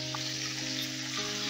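Pointed gourd and halved yardlong beans frying in a pan with a pinch of salt and turmeric, a steady close sizzle with faint stirring and no voices.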